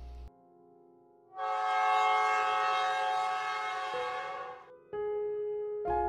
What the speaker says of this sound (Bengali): অবশেষে ট্রেনটি উজ্জ্বলপুর রেল স্টেশনে এসে থামল